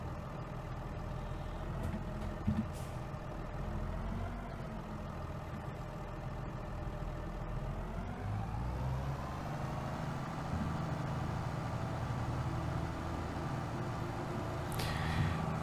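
A tractor or truck engine in Farming Simulator 22, a steady low diesel drone running continuously, with a gradual rise in pitch midway as it pulls away, no talk.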